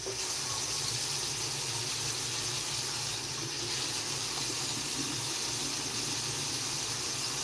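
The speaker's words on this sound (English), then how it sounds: "I'm gonna wash my hands with soap and floss" Steady, full stream of tap water running into a sink while hands are washed with soap, a continuous even rush close by with no voices.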